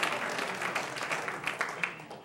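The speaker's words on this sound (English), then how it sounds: "give him a round of applause" A dinner audience at an honorary degree event applauds a graduating student trustee, a moderately loud wash of many hands clapping that thins and fades toward the end.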